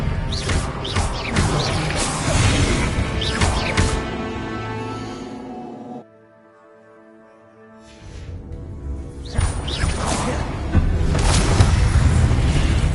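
Spell effects in Hogwarts Legacy, including Incendio and Expelliarmus, loud whooshing booms and crashing bursts in two dense stretches separated by a brief quiet lull with a sustained tone.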